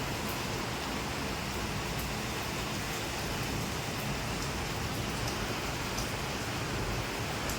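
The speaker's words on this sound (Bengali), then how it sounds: "কতদিন পরে আওয়াজ শুনলাম বৃষ্টি।" Heavy rain pours down in a dense, steady roar, broad and unbroken throughout, with faint drips and splashes standing out above the wash. No voices are present.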